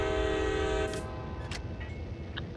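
A locomotive horn in the Train Sim World game gives one loud, steady blast for about a second, then cuts off and leaves a low engine rumble with faint clicks.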